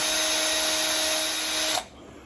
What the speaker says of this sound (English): I'm gonna take my drill bit and I'm gonna rough up the bottom of where this blade touches that rivet